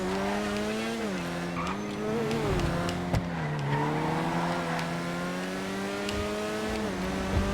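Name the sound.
Ocelot Locust car driving and braking in GTA Online video game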